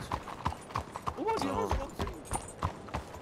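Horse hooves clip-clop in an even rhythm in the video game Red Dead Redemption 2 while a voice speaks briefly over them.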